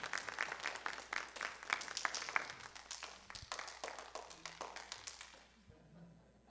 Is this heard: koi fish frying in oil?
no